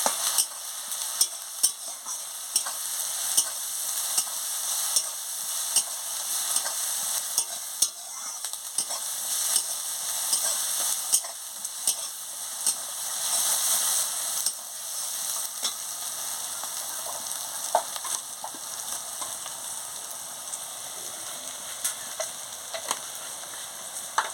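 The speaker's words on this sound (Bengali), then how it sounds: "হলুদ গুঁড়ো দিয়ে দিচ্ছি পরিমাণ মতন দিয়ে ভালো করে ভেজে নিচ্ছি" Turmeric and ground spices frying in oil for mutton curry, a steady close sizzle punctuated by regular clicking scrapes of a spoon stirring in the pot over a long stretch.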